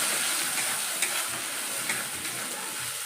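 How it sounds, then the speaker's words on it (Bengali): A ground paste of cumin, ginger and onion frying in oil for a fish curry, stirred with a spoon; a continuous close, loud sizzle with occasional light scraping taps, no talking. "এর মধ্যে আমি দিয়ে দিচ্ছি যে বাটা মশলাটা, জিরে, আদা, পেঁয়াজটাকে বেটে রেখেছিলাম, ওই মশলাটাকে দিয়ে ভালো করে নেড়ে চেড়ে নিই"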